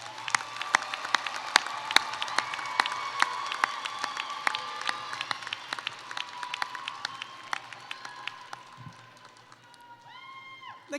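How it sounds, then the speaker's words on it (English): An audience applauds undergraduate degree recipients at an LSU Shreveport fall commencement ceremony, sustained crisp clapping from a large crowd that gradually thins toward the end, with a few cheers mixed in. "Let's give them all another round of applause."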